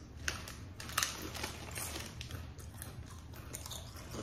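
Spicy taco flavored Doritos chips crunch up close and quietly, a few sharp bites followed by softer irregular chewing crackles over a faint background hum.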